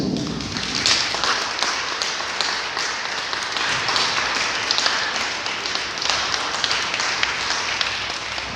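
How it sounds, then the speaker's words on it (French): Church congregation at a Sunday Mass claps for the parish choir, a dense, steady patter of many hands filling the room for several seconds, with no talk over it. "Je pense qu'on peut les applaudir chaleureusement."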